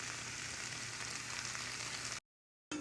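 Cabbage with garlic powder sizzles steadily in a pan, a constant close hiss and crackle that fills the clip before cutting to silence near the end, then returning briefly.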